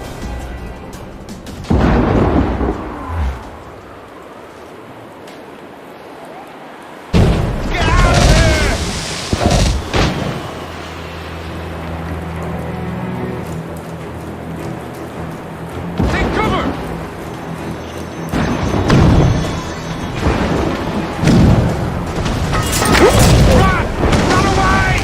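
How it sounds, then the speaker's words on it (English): Mortar explosions in the Assassin's Creed Rogue video game, heavy booms recurring through the stretch with rumbling tails, mixed with game voices and other battle noise. "Chevaliers using mortars!"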